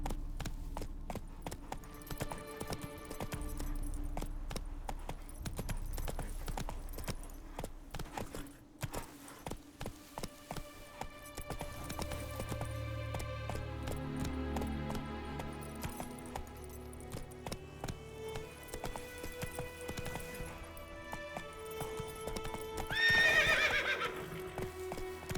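The horse Roach in The Witcher 3 gallops with rapid, continuous hoofbeats over game music and ambience, and a horse whinny rises briefly near the end.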